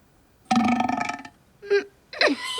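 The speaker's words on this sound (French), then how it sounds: "qu'il fait un rot" A tiger in a children's story burps, a loud drawn-out belch followed by two shorter gurgling burps, close and alone with no talk.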